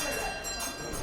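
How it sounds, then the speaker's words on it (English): A division bell in a Parliament committee corridor rings steadily with a bright, continuous electric tone, loud and unbroken for about a second. "you've heard the bell go off while I'm talking"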